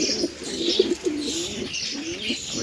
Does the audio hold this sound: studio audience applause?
no